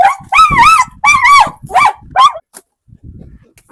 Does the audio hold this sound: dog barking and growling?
yes